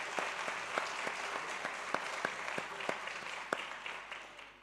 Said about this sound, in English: can we please give warm applause thus far for this?